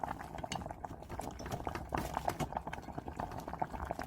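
Water at a rolling boil for blanching freshly picked young butterbur leaves, a dense continuous bubbling and churning that stays steady and close throughout with no voices.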